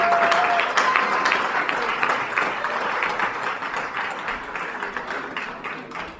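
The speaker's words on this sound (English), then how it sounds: "And while we're giving out a round of applause, I think Melody for singing this afternoon a" Wedding guests applauding at a reception, a lively round of clapping that starts full and gradually fades, with a faint voice briefly audible at the very start.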